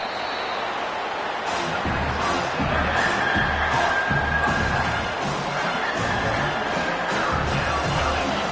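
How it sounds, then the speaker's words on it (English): A football stadium crowd roars steadily through a college game between Ohio State and South Carolina as the defense holds on third down, a dense, continuous wall of noise with a few swelling surges. "The roar of the crowd trying to fuel this defense to keep them pinned in their own end."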